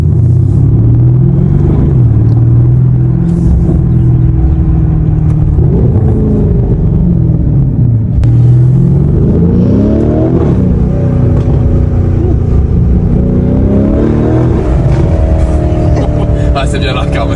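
A Lamborghini Urus SE hybrid SUV drives in Corsa mode, its engine droning loud and close with rising and falling revs as it accelerates, and someone talks over the rumble.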